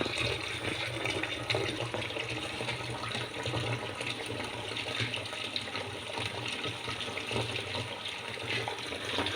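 Water pours steadily into a cooking pot while urad dal is being prepared, a continuous, fairly even rushing splash that runs close by with no talk over it.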